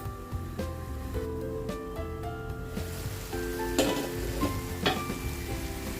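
Grated coconut cooking in a pan for ridge gourd (gilki) bhaji, a steady close sizzle and frying crackle with occasional stirring scrapes and clinks, no voice.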